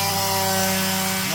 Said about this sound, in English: Sander's on.